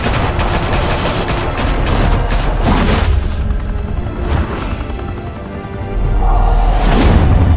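Sustained gunfire bursts and booms from a Batman Telltale video game shootout, loud and dense throughout with a brief dip before heavy firing resumes.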